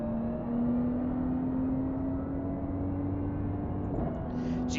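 A Ferrari 296 GT3 race car in the iRacing sim at Circuit de Spa-Francorchamps, its engine a steady close drone that holds one pitch before shifting briefly near the end.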